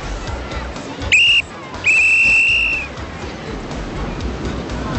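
Two loud, sharp whistle blasts, one short and one longer, rise over beach surf noise and a faint crowd babble.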